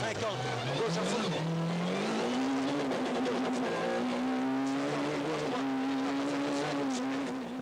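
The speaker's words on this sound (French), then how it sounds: "Jean-Pierre Van de Hoever impose sa Peugeot 306 en 2 roues motrices pour la 4e fois cette saison" A Peugeot 306 two-wheel-drive rally car runs hard on a stage at the 1998 24 Heures d'Ypres, its engine note climbing and holding at high revs through gear changes, loud and close, with an excited commentator talking over it.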